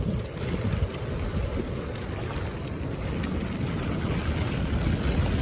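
The flooded Shetrunji river at Bedla village surges in heavy rain, giving a steady, dense rushing roar with a low rumble and no break across the stretch.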